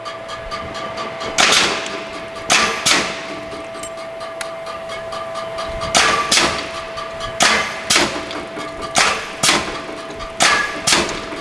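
Sterling power press with air clutch and brake cycling in single-stroke mode, each stroke a sharp metallic clang-thump followed by the brake's hiss, repeating at uneven intervals over a steady low machine hum, with no talk.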